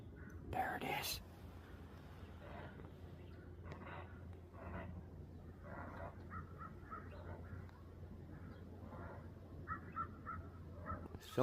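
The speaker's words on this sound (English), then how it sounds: "I can still hear the heron." A heron beside a creek, hoarse croaking squawks repeated at a distance against quiet outdoor ambience, with a soft whispering voice and a sharp nearby knock near the start.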